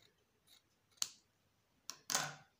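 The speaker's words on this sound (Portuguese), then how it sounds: "deixo o tecido bem retinho e vou cortar." Scissors cutting a strip of tricoline cotton fabric produce a few crisp, close snips, a single cut followed by a quick double snip, in a quiet room.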